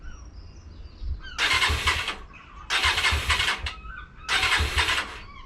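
Motorbike engine cranked without choke, three long loud bursts of starter whirring that fail to catch, separated by short pauses, with faint birdsong in the background.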